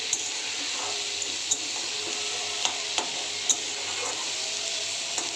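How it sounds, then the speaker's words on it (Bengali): Fish head and water lily stems sautéing in a pan with a little sugar, a steady close sizzle with scraping stir strokes and occasional sharp clicks of the spoon, no voices. "এবার 2-3 মিনিট এইভাবে কষিয়ে নিয়ে তারপর নামিয়ে দেবো।"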